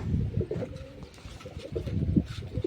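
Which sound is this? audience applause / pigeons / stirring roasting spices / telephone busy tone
pigeons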